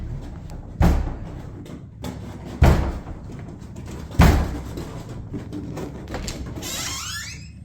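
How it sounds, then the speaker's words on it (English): A basement door slams: three heavy bangs land a couple of seconds apart, each with a sharp thud, followed by a faint rising squeak near the end. "the basement door slams shut with a loud bang"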